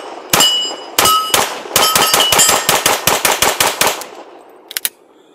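Bul Armory 5.4 Radical 2011 competition pistol fired in a rapid string of about a dozen sharp, loud shots with ringing metallic steel-target clangs, then a short pause and two quicker final shots.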